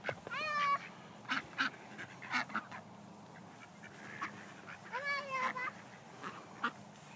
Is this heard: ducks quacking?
yes